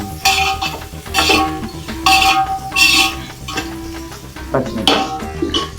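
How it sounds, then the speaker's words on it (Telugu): A spoon stirs chicken pulao ingredients with cloves and peas in a metal pot over frying heat, giving repeated loud scraping clanks in uneven bursts, close and with no talking. "ఇప్పుడు కలుపుతాను"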